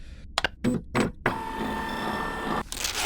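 A printer runs through a print job: a few short mechanical clicks and whirs, then a steady, fairly loud motor drone with a whining tone that continues for over a second before briefly stopping and resuming.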